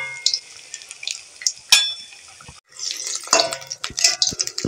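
Battered pointed gourd fries in hot oil with bursts of bright sizzling and spitting, broken by sharp clicks and clatters and one short quiet gap, close up and with no talking.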